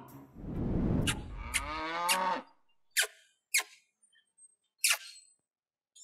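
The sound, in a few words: buffalo mooing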